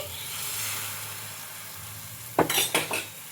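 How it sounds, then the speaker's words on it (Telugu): Egg batter poured into an oiled pan lands with a sudden sizzling burst after a stretch of quiet kitchen hiss, followed by a few more short sputtering surges close by. "ఈ బ్యాటర్ అయితే ఇలా మొత్తం బాగా కలుపుకొని ఇప్పుడు ఈ ప్యాన్లోకి అయితే వేసుకోవాలి"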